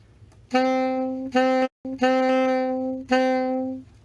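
A band instrument plays a series of sustained tonal notes, each starting with a strong accented attack and then fading in volume, with a brief silent break partway through.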